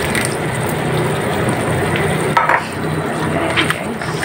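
Pasta stirred through tomato sauce in a hot pan makes a close, continuous sizzle, with a few sharp scraping clatters of the utensil against the pan partway through.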